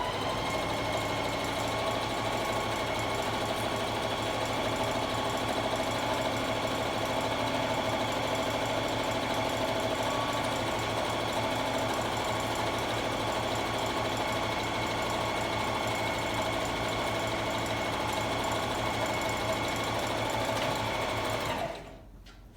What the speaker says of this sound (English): I'm sewing on the edge of my fabric this time, okay?